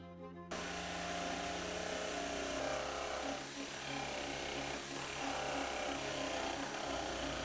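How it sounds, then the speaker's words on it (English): A jigsaw cuts and rasps through a wooden accent-table panel, a continuous loud buzzing drone that starts abruptly and runs steadily with slight shifts in pitch as the blade works. "roughly cut it out with a jigsaw and some sanding"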